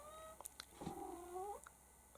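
Indoor house cat meowing in a single drawn-out call lasting about a second, close to the microphone, with a few soft clicks and small bumps before and after against a quiet room.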